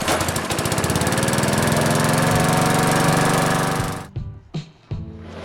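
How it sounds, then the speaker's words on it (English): A 36-volt lithium-ion battery lawn mower runs loud and steady with a dense whirring motor hum, then cuts off abruptly near the end, leaving a few faint clicks and handling noises. "Getting the mower to run is effortless in comparison."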